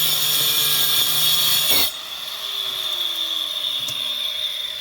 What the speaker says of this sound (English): that's how simple things cut with your angle grinder and this wheel